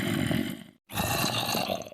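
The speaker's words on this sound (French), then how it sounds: "c'était le bruit du zombie." Minecraft zombie groaning: a loud, close, throaty growl, a short silent gap, then a second gravelly moan with a rough raspy texture.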